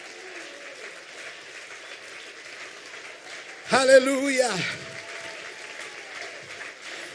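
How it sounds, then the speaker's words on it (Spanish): Church congregation applauding during a Sunday-morning service, a short loud burst of clapping and cheering that swells and fades after about a second, with a preacher's voice speaking before and after. "¿Por qué no le damos un aplauso al Señor?"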